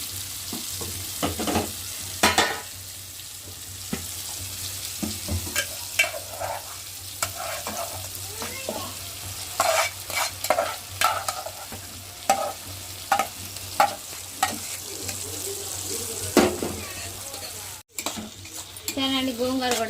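Gongura leaves and spices are stirred in a frying pan, a ladle scraping and clinking against the metal in irregular strokes over a faint, steady sizzle.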